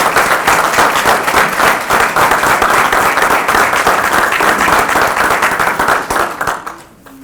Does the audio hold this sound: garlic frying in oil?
no